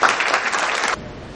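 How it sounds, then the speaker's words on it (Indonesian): An audience applauds during an Indonesian World No Tobacco Day tribute, a short, dense round of clapping lasting about a second before breaking off. "Tepuk tangan untuk"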